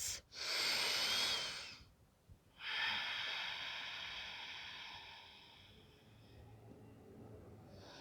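Slow, deep breathing held during a yoga pose, with a long airy inhale and a longer, gradually fading exhale, close and soft with no other sound.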